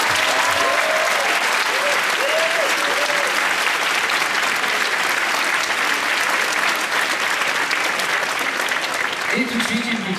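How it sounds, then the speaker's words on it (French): Steady, dense audience applause fills the whole stretch, loud and continuous, with a few faint voices and whoops poking through the clapping. "Applaudissements."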